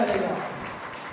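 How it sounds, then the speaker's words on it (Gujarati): Brief burst of applause for donors at a Gurjar Khatriya Kadiya Samaj community gathering in Vasavad, a moderate crowd clapping for about a second. "દરેક દાતાશ્રીને એકવાર જોરદાર તાળીઓના નાદ સાથે વધાવી લઈએ."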